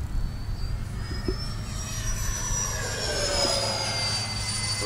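Twin 80mm electric ducted fans of a Freewing A-10 Thunderbolt II RC jet whine and roar in flight, the high fan tone rising and sweeping as the model passes fairly close, steady and continuous without voices.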